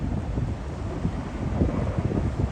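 Strong wind gusting through a park in Tokyo, a continuous loud rumbling roar buffeting the microphone for the whole stretch, with no voices.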